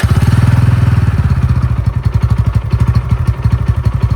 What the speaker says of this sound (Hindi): तो अभी हम इसको स्टार्ट करेंगे। एग्जॉस्ट नोट सुनना,